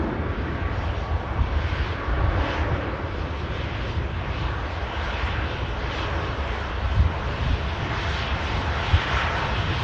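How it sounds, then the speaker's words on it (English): Steady broadband jet engine roar of a Boeing 737-800 airliner taxiing in at Manchester Airport after vacating runway 23 right, continuous and fairly loud throughout with no voices. "E737 800 series just taxiing in, vacating off runway 23 right."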